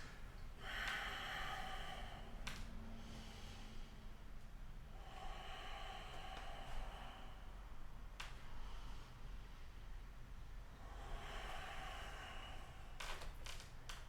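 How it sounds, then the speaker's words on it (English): Deep, slow breaths during a yoga flow, three long airy exhalations spaced several seconds apart, with sharp nasal snorts and soft rustles between them, close and fairly quiet; no talking. "Two more deep breaths."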